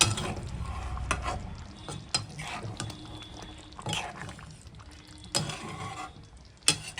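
Cooked meat simmers in a pot on low heat, with a soft bubbling sizzle and intermittent scraping stirs and clinks of a utensil against the pot, fairly quiet and close, without speech.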